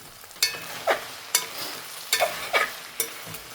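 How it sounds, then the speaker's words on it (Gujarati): Okra is turned and mixed in a hot pan with a spatula: a few distinct scraping strokes and knocks, spaced irregularly, over a light sizzle. "ચાલો આપણે હવે ફરીથી એકવાર ફેરવીને કે ભીંડાને મિક્સ કરી લઈએ"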